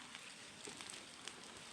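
Early morning rain falling steadily, heard as a faint, even hiss with a few scattered drop ticks and no voices.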